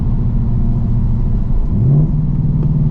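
A 2024 Ford Mustang GT engine hums steadily up close during a lap, its pitch rising briefly as it accelerates, with a constant low rumble throughout.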